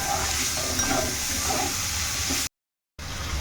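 Greens with turmeric and salt stirred in a frying pan, giving a steady close sizzle with soft scraping, broken by a short silent gap near the end.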